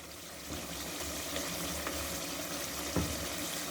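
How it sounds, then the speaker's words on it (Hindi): Crushed red chili frying in a soft onion-tomato masala for boneless chicken karahi makes a faint, steady low sizzle and bubbling, with a couple of light utensil taps and no speech. "इस वक्त मैं हाफ़ टी स्पून लाल मिर्च, कुटी लाल मिर्च डाल रही हूँ। इसको हमने अच्छी तरह से भून लेना है।"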